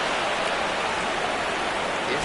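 Heavy rain pours down during a baseball game in MLB The Show 26, a dense, steady hiss that stays loud and unbroken throughout.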